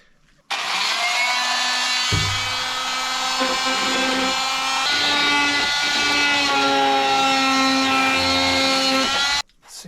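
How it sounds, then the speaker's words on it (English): Oscillating multi-tool cutting a plastic radio bezel for a 1999 Jeep Wrangler: a loud, continuous high buzzing whine whose pitch shifts as the blade loads and eases, running about nine seconds before stopping abruptly. "To do the honors, I'm going to use my oscillating tool."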